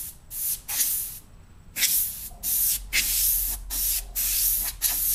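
An airbrush sprays paint onto a paper portrait in short, repeated bursts, each a soft, close hiss starting and stopping in an uneven rhythm of quick strokes.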